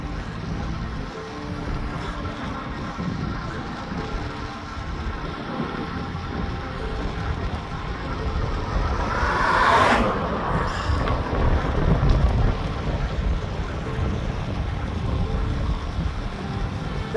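Strong wind gusts roar and buffet the microphone continuously while cycling, with a steady low rumble and a louder gust surging in the middle.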